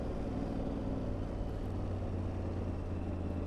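An Aprilia Tuareg 660 mid-size trail motorcycle, ridden derestricted, drones at steady revs, a low, constant engine hum with wind rush that stays even and unbroken throughout.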